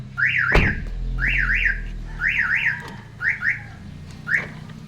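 A Commuter Deluxe car alarm, set off by a forced door, wails in repeated rising-and-falling electronic warbles, loud and close, with a sharp thud near the start.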